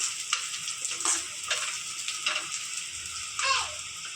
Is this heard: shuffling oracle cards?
no